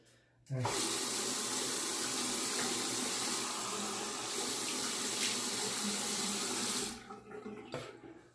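Water from a bathroom tap runs steadily for several seconds as a face is wetted before a shave, a close, continuous splashing rush that starts abruptly and cuts off near the end.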